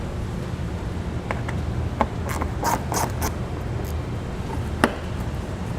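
Hand ratchet loosening a 10mm bolt on the front bumper fascia of a 2016 Mini Countryman, a few faint clicking strokes over a steady background hum in a garage.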